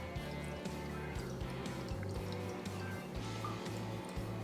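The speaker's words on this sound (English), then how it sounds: "You start pushing until you feel a little bit of resistance." An AeroPress plunger is pushed down to brew coffee, giving soft liquid drips and squishy gurgles over a low pulsing hum, close and quiet.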